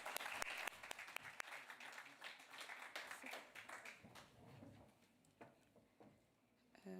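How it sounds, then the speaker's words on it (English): An audience at a media briefing applauds after a memorandum signing, a crisp burst of many hands clapping that thins out and fades over several seconds, with faint voices underneath. "Let's clap for them."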